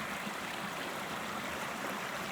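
San Ysidro Creek flows at the Pacific Crest Trail crossing with a steady, even rush of water, continuous and moderately close, with no voices.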